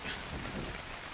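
Steady rainfall in the video game Ark: Survival, a constant broadband hiss of drops with no gaps, even in level and unaccompanied by talk.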